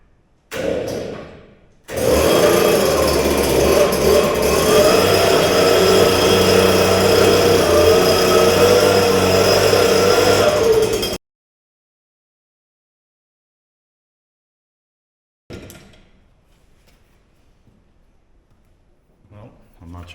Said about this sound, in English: It's probably going to need brushed anyway, because I don't think that the blower got everything